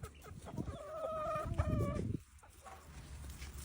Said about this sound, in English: walking out to the chickens